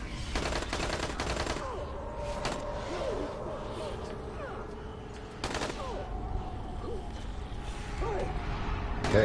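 Gunshots in the zombie game Dying Light, several sharp broadband bursts scattered over a busy game background, with a loud burst near the middle and another at the end.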